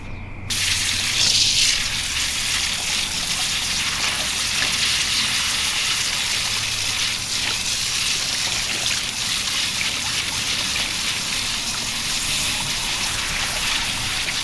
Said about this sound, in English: Here to rinse out another t-shirt for you.